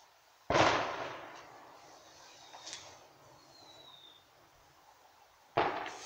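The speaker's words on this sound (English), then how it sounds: "And let's put the smoke grenade underneath." A firework smoke grenade set off outdoors gives two sharp bursts about five seconds apart, each with a loud hissing rush, with a faint whistling streak between them.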